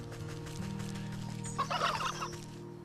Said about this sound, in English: Oh, it's a friggin' turkey.